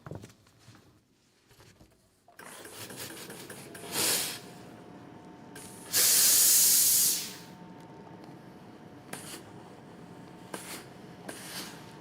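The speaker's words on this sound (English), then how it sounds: "When I starch, do I spray the heck and drape it?" Spray starch on quilting fabric: a few short hissing spray bursts, one long loud burst in the middle, over quiet room noise, with no talking.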